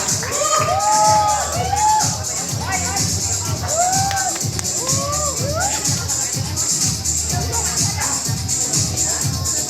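A family reunion crowd raises a noisy mix of cheering, hooting and overlapping voices, lively and continuous for nearly ten seconds with people talking throughout.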